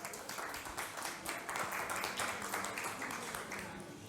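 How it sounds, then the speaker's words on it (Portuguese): Faint, steady applause from an audience at a cultural institute's fourth-anniversary gathering, a low continuous patter of many hands lasting the whole stretch. "Uma salva de palmas."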